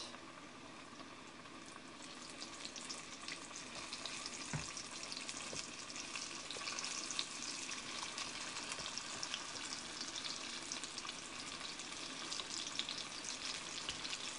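Food fries steadily in a hot pan, a dense continuous sizzle with faint crackles throughout, close and alone with no talking.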